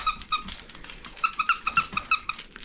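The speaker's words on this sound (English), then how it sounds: "Where's the squeaker?" A squeaker in a banana-shaped dog toy gives a quick run of sharp, high squeaks, about ten of them close together in an uneven rhythm, loud and near.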